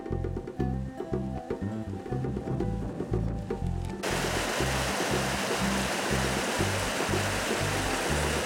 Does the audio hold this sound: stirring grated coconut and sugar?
no